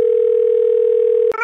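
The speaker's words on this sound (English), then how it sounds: "I'm gonna call Orange from the My PB&J phone" A steady telephone dial tone hums loud and unbroken for over a second, then cuts off abruptly into a short burst of other sound.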